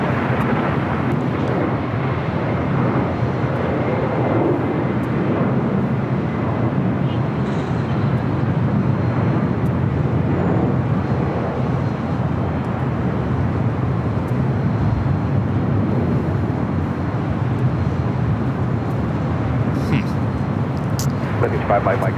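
A jet airliner takes off from runway 25 right at LAX, a loud continuous broadband engine roar held steadily throughout, with a voice talking over it.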